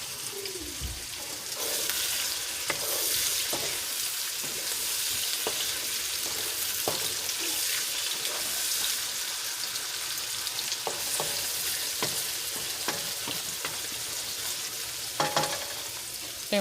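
Bell peppers and other ingredients for black pepper salmon sautéing in a pan, a steady close sizzle and crackle lasting throughout, punctuated by occasional stirring scrapes and light clicks.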